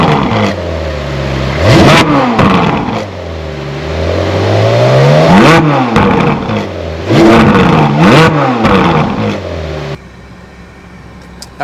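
A Ferrari engine fires up and revs repeatedly in loud, rising-and-falling bursts close by, settling briefly between blips before cutting off near the end, with no one talking.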